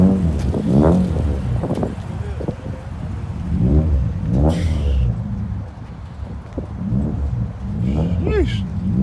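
A BMW revs its engine at an outdoor car meet, with repeated rising bursts of engine roar alongside other car noise and people talking and shouting nearby.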